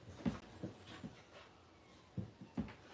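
Two excited dogs pant and whimper in short bursts, a few quiet huffs and whines spaced irregularly across a fairly faint, otherwise calm indoor space.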